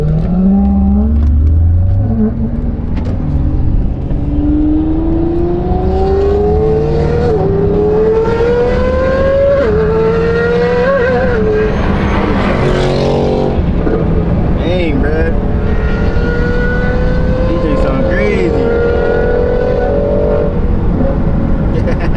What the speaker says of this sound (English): I'm gonna just hold it and drive because I want y'all to hear these exhausts